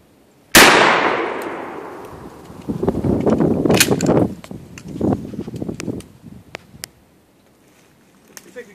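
A single sharp, loud shotgun blast firing a 474-grain hot melt glue slug during velocity testing, its report ringing and decaying over a couple of seconds, followed by clanks, shuffling and speech nearby.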